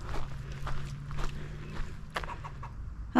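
Soft clucking of a bird amid footsteps shuffling on the ground, with a brief sharp call at the very end.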